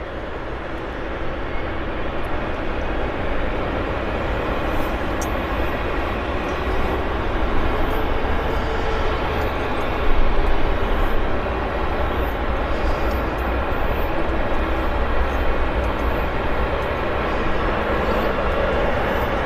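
Air Canada Flight 236 bound for Edmonton, at Vancouver Airport, gives a steady broadband roar that holds for the whole stretch with a slight swell midway, continuous and fairly loud with no talk over it.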